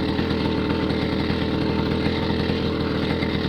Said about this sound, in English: while you're using the engine to help you up